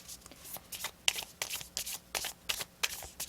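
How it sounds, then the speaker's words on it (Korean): Tarot cards are shuffled and drawn in quick, crisp riffling bursts, each a short papery flutter repeating in an irregular rhythm, close and alone without talk. "조언의 카드 한번 뽑아볼게요."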